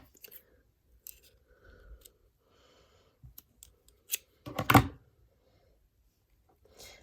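A single quiet snip of scissors cutting off the short end of plastic yarn, close up, amid soft handling rustles and near-silence.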